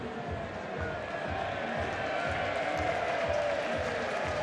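A rugby crowd at Leicester Tigers versus Newcastle in the Gallagher Premiership cheers and applauds in a dense, distant roar, steady and fairly faint under a broadcast mix.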